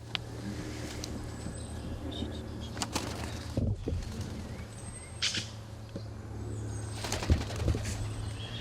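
Released magpies take off and fly away, their wings flapping in soft, brief bursts against a quiet outdoor background hum.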